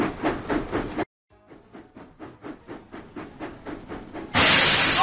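Rhythmic steam-engine puffs from a Thomas & Friends locomotive game, a run of evenly spaced chuffs with hissing bursts that break off briefly and then end in a loud sustained steam hiss, with no talk.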